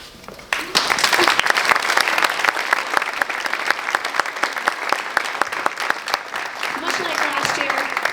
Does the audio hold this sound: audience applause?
yes